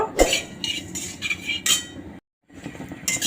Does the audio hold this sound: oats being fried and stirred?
yes